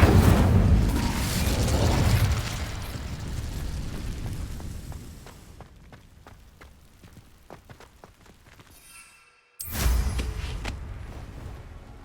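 Incendio fire spell cast in the Hogwarts Legacy video game: a loud roaring, crackling burst that slowly thins out into faint scattered pops, then a sudden second blast of fiery roar, with no talking.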